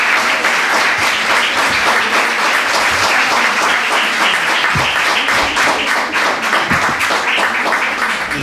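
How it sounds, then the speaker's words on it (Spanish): Audience at a Spanish novel presentation gives loud, sustained applause, dense steady clapping close by with no speech over it. "darles un fortísimo aplauso"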